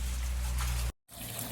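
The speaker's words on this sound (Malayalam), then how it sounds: "ഇതിൻ്റെ അടിയിൽ വെള്ളം ഒഴിക്കുമ്പോൾ പാത്തിയിലേക്ക് ഇങ്ങനെ പോകും" Water poured onto the floor of a dog kennel runs off into a drainage channel, a steady close splashing trickle that cuts out abruptly into silence, then resumes.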